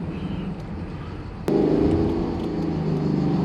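Lexus LC Cabriolet V8 running on the road, a steady engine rumble that jumps suddenly louder about halfway through and then holds a fuller, sustained tone, no speech over it.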